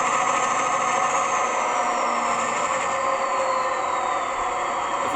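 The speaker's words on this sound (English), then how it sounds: "going up and down the revs, just to show you how quickly it transitions between them" A DCC sound file for a Class 68 diesel locomotive hums loudly and continuously as the engine revs shift up and down, with the pitch gliding gradually across the steady drone.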